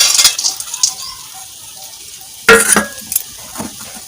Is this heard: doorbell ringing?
no